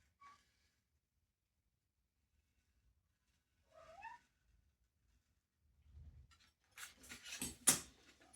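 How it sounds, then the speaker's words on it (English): A house cat entering a quiet workshop gives a short meow, followed a few seconds later by scuffling and rustling close by as it moves around the bench. "It's Missy the cat just coming in to be a nuisance at just the wrong time."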